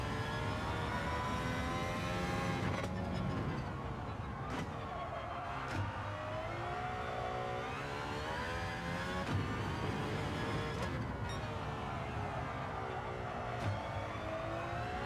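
A race car engine revs and accelerates in a racing video game, rising and falling in pitch through gear changes as a steady, moderately loud drone with no talk over it.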